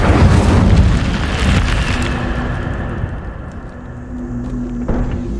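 A fire spell cast in the Hogwarts Legacy video game, a loud whooshing burst at the start that rumbles and fades into a sustained crackling roar, with a faint tonal hum underneath and a second small burst near the end.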